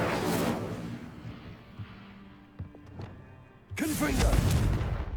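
Incendio fire spell cast in the Hogwarts Legacy video game: a loud whooshing burst opens the clip, the scene settles into quieter ambience with a few thumps, then another loud surge of rushing, crackling energy arrives near the end.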